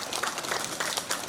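Audience at a community meeting in Tangkerang Utara, Pekanbaru, Riau, gives a short round of applause, a moderate spread of claps with a few distinct louder hand strikes over about a second.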